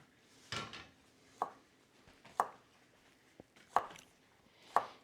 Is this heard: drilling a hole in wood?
no